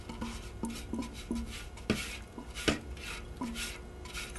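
Finely chopped pecan praline is tipped and scraped from a bowl into ice cream batter, with a string of light clinks and gritty scrapes against the bowl at an uneven pace, close by.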